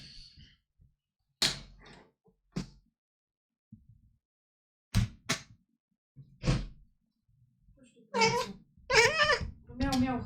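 A cat meows several times in short separate calls, close and clear, with a person talking softly in between.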